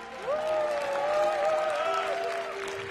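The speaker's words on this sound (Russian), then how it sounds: "И эти аплодисменты прежде всего Ее Величеству школьной математики" Audience applause at a Russian award ceremony for the Znanie prize, steady clapping beneath a sustained tonal music or feedback line, moderately loud and unbroken.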